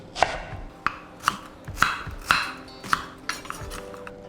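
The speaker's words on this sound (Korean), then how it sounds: "반을 갈라서 오이 사이즈랑 같이 썰어 주시는데 부채꼴 모양대로 중심을 향해서 썰어 주시면 되겠습니다" A knife chops a vegetable into fan-shaped pieces on a cutting board, about eight crisp, close taps in a fairly even rhythm, with no talking.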